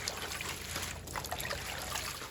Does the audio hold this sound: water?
yes